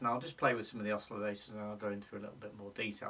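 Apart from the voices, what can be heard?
No everyday noise stands out behind the speech.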